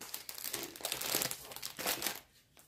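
Sheets of glossy paper from a cross-stitch project crinkle and crackle in steady handling bursts, close and fairly quiet, fading to near silence at the end.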